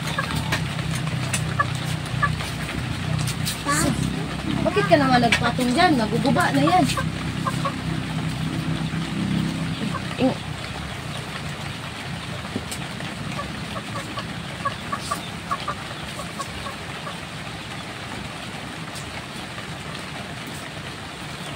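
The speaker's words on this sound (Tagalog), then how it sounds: "Ayan ang manok." Chicken clucking close by on a rainy day, a few rising squawks and clucks early on under a person talking, with steady rain hiss in the background.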